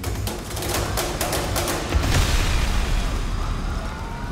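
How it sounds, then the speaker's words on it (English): A roaring blast of fire and rushing gas from a gas explosion engulfing firefighters, loud and sustained, with crackling bursts early on and a heavy low rumble throughout. "these firefighters just get swallowed up by this gas explosion."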